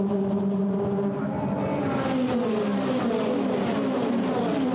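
Formula Renault race cars at Silverstone scream through the first corners in a dense, continuous engine roar. Overlapping pitches rise and fall as the pack passes at mid distance.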